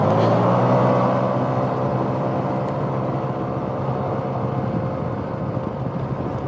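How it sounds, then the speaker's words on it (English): A 2007 Yamaha C3 XF50 scooter at wide open throttle on a slight uphill commute, its small engine droning loud and steady with a rising whine and wind rush throughout, no talk. "Okay, wide open throttle."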